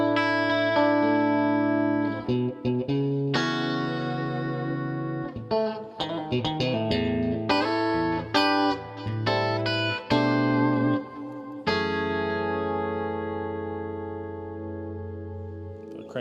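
Electric guitar played through a chorus modulation effect, its chords and single notes shimmering and wavering with a spread, doubled tone, strummed and picked at moderate volume with some ringing sustain.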